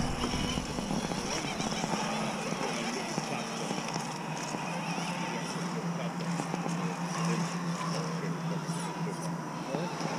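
A radio-controlled trials motorbike works its way over rough terrain, its small motor whining steadily with scrabbling and knocking from the tyres, while people talk close by.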